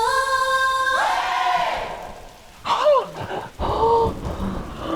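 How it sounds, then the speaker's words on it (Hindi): Loud storm with heavy rain pattering on surfaces and thunder rumbling, interrupted by several bursts of sudden cracking noise and louder rushing toward the end; sustained tonal sounds also ring early on. "जब तक ये तूफान थम नहीं जाता"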